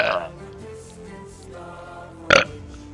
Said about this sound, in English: I'm a dude. I burp,